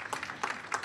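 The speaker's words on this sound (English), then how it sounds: "wow, Congress is getting applause?" An audience at a World IA Day 2018 talk gives a brief burst of applause, quiet and somewhat distant, with a few pulses of clapping.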